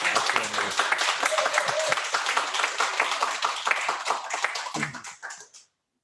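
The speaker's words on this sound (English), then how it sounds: "Let's give Ron Bowling a round of applause." Audience applause for Ron Bowling during a wealth-principles talk, a steady stretch of clapping from a group with voices and a few barks or calls mixed in, tapering off and stopping near the end.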